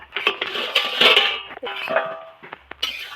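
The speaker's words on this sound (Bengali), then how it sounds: "এইভাবেই আলুগুলো সব আলুগুলো ওলগুলো সব সিদ্ধ হয়ে গেছে এবার জল ছেঁকে নিচ্ছি" Boiled elephant foot yam and potatoes are drained in a metal pot, with close clanks and scrapes of the vessel and lid and a gush of water in brief bursts.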